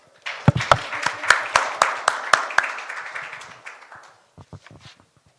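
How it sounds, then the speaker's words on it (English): A small audience at a student summit session in Daegu applauds, with a few loud, distinct claps standing out before the clapping fades away. "let's give Maria another round of applause."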